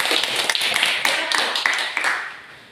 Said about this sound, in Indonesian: Kita aplaus dulu untuk kelompok 1.